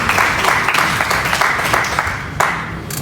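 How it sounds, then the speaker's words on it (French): An audience at a national trading day event applauds loudly and continuously, a dense wash of clapping hands sustained for about three seconds. "Applaudissez très fort."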